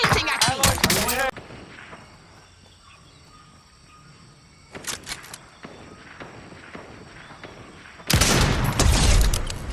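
Gunfire aimed at the player in a video game: loud bursts of shots near the start and again at the end, with a quieter stretch between and a short burst in the middle.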